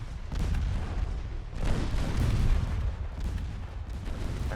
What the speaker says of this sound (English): Try firing armor piercing, see if that works.